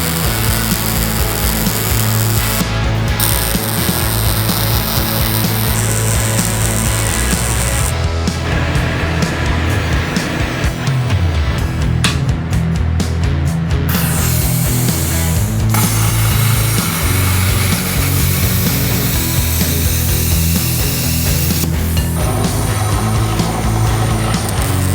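Power tool grinding and cutting the corners of a steel winch bumper for a Jeep Gladiator, a loud continuous whine that shifts in pitch as the cut progresses.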